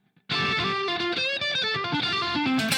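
An electric guitar plays a run of distorted notes through a tube amplifier with a psychedelic blues rock tone, loud and close, with a gritty, slightly wavering tone.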